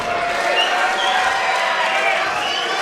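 Crowd noise fills a venue at an MMA fight in Southport, a dense steady roar of cheering and clapping, with a commentator talking over it.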